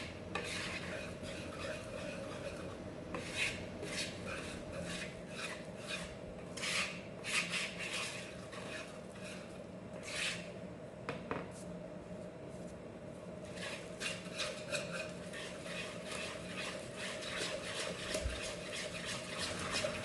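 Date pudding batter stirred by hand with a utensil in a bowl, a steady scraping and rubbing with soft rhythmic strokes, close and moderately quiet, with no talking.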